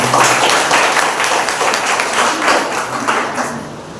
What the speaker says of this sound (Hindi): एक बार जोरदार तालियां हो जाए परमेश्वर के लिए।